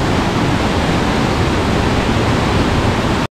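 Fast-flowing river water beside the Gilgit Skardu Road in Pakistan rushing past large boulders, a loud, steady, broadband roar close by that cuts off abruptly.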